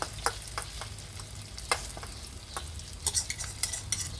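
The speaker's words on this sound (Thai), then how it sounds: "เกลี่ยไข่นะคะ ให้มันกระจายกระจาย มันจะได้สุกเร็วๆค่ะ" Beaten egg frying in oil and being spread across a pan for a Thai sour curry with cha-om omelette: a steady close sizzle with scattered scraping and tapping strokes of a spatula, no voices.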